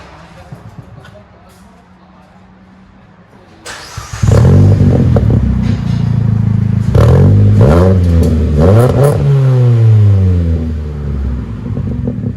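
Revving 4-cylinder engine of a 2012 Ford Fiesta with a stainless steel DTM muffler on original piping, starting from a low idle and then climbing through several loud, close rev sweeps, with brief talk around it.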